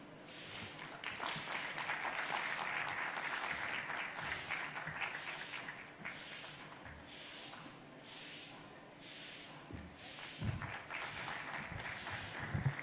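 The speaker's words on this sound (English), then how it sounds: "Can we give her another round of applause, please?" An audience applauds after a speech, with steady moderate clapping that holds for several seconds and then thins and tapers into scattered claps. No one speaks.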